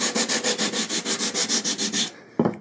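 A guitar fretboard with a compound radius is sanded with 80 grit sandpaper, about fourteen quick, even back-and-forth rasping strokes close up, ending with a brief knock.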